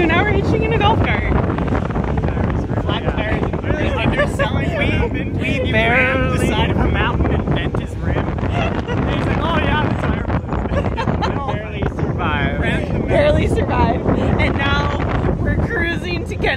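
Steady, loud wind buffeting a microphone while riding in the back of a golf cart hitched on the way to Kennedy Meadows North, constant roar throughout with people talking over it.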